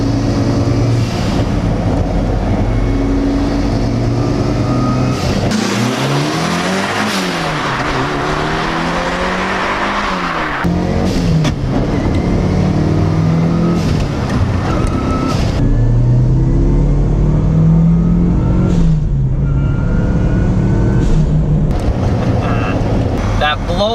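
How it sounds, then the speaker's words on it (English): A first-generation Mitsubishi Lancer Evo RS accelerating hard, its turbocharged engine roaring loudly and steadily with rising revs, gear changes and a blow-off valve whoosh between pulls, heard close and continuous. "That blow-off valve sounds incredible."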